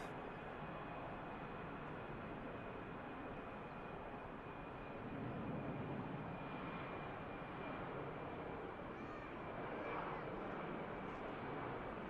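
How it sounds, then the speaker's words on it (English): An EasyJet airliner takes off from runway 23 left at Manchester Airport, a steady broad engine roar holding for the whole stretch and swelling slightly midway, with a thin high whine running through it. "EasyJet taking off from the second runway, 23 left"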